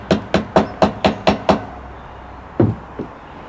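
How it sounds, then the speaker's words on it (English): Seven quick, evenly spaced hammer blows ring out in a steady rhythm, driving staples through thick fabric into a vintage chair frame, followed after a short pause by two or three more sharp taps. "I use my hammer to sort of hammer the staples in a little bit deeper"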